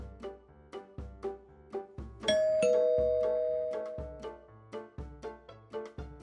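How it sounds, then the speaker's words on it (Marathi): A ding-dong doorbell chimes once with a bright ringing tone that slowly fades, heard over a steady, looping background music beat. "त्यांनी जवळजवळ ओढतच तपस्याला तिच्या घरी आणलं आणि दाराची बेल वाजवली"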